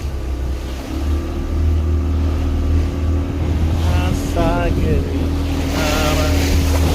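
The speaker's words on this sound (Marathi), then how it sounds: "आता बोट सुरू झालेली आहे आणि समुद्राच्या आतमध्ये" A motorboat's engine drones steadily over rushing sea water and wind noise off Diveagar beach on the Konkan coast, with faint voices briefly rising in the background.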